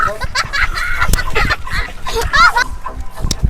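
A man imitates a rooster crowing with drawn-out, wavering vocal cries, loud and close, with other voices breaking in around the calls.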